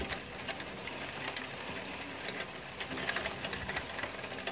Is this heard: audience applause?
no